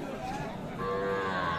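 A Sahiwal cow moos at a busy livestock market, a drawn-out tonal lowing that swells midway and holds, close and fairly loud over a steady murmur of crowd noise.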